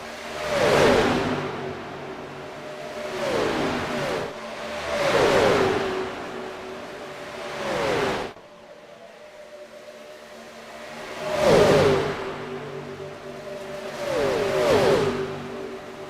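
Gen4 stock race cars at Atlanta roar past toward the finish line in separate packs, each engine rising loudly and then fading away as it passes, with a quiet gap between the groups.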